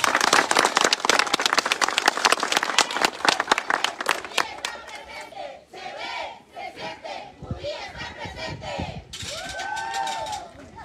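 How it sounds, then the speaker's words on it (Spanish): Loud crowd applause and clapping at a political campaign launch rally, dense at first, then giving way to cheering, shouts and whistles from the crowd. "Un aplauso para ellas, por favor."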